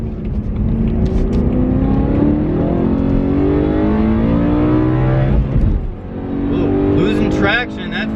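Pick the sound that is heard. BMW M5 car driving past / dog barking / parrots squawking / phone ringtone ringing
BMW M5 car driving past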